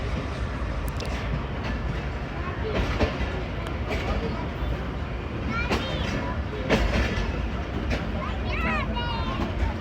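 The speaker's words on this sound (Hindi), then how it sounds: "चलो जी गुजर खान से निकल गई 11 हज़ारा एक्सप्रेस।" The Hazara Express rumbles past near Gujar Khan, with loud continuous rolling and clatter from the railcars, sharp squeals and clicks rising above, while people and children talk nearby throughout.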